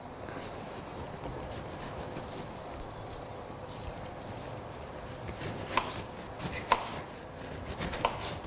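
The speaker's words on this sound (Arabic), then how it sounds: "وأنا رح كفي تقطيع البندورة" Tomatoes being chopped with a knife on a cutting board while making an eggplant stew with coriander: soft, quiet cutting under a low background hiss, becoming sharper with a few distinct knocks toward the end.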